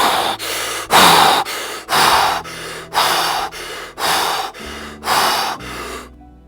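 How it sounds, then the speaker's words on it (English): Wim Hof style rapid breathing, in through nose and mouth together like hyperventilating: a steady series of loud, close, forceful breaths, about eight or nine quick cycles with no talk, ending in a sudden stop. "you breathe in your nose and mouth at the same time,"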